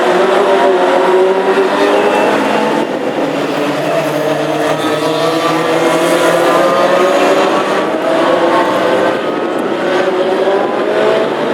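Classic hot rod race cars circulate on a dusty oval track at Hednesford during installation laps, several engines droning and overlapping continuously at a steady, loud level with no pauses.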